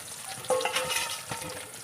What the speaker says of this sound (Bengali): আর এখানে মাছটা ভাজা ভাজা হয়েই গেছে।